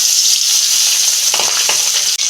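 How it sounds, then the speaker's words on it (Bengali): Pabda fish coated in salt, turmeric and chili powder fry in hot oil in a wok, giving a loud, close, continuous sizzle with scattered crackles and no voices. "তেল গরম হয়ে গেছে মাছগুলো ভেজে নিচ্ছি"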